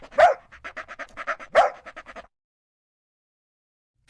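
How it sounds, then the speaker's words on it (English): A dog barks in a quick series of sharp, close barks with short gaps between bursts for about two seconds, then falls silent. "Your barking used to annoy me."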